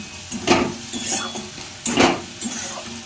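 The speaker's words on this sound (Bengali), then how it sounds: "পেঁয়াজটা দিয়ে একটু ভালোভাবে ভাজবো" Onions sizzling in a pan on a home stove, with a few distinct stirring scrapes and clinks of a utensil against the pan over a soft steady fry, close and moderately quiet, no talking.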